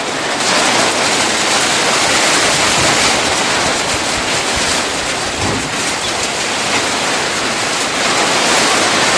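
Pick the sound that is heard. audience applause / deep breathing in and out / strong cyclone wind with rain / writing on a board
strong cyclone wind with rain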